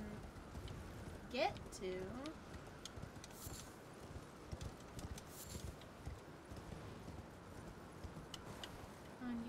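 Horse hooves clip-clop in a steady galloping rhythm in Elden Ring, fairly quiet beneath game effects, with a person briefly speaking over them.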